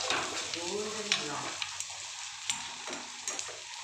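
Onions deep-frying in hot oil give off a soft, continuous sizzle with occasional pops and stirring clicks, heard up close at low volume and with no one talking.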